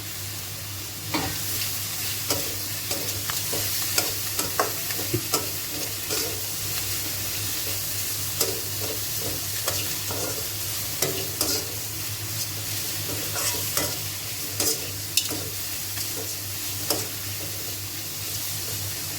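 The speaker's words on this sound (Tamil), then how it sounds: "இதை நல்லா வதக்கியாச்சு." Onions, coriander and other ingredients sizzle and hiss in a hot pan while a utensil scrapes and stirs at irregular intervals, close and steady throughout, as for coconut chutney.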